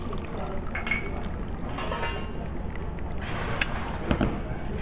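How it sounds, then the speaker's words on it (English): Hot coffee pours into a warm glass for an Irish coffee, a soft liquid stream with faint clinks near the end, heard close up. "Some nice hot coffee."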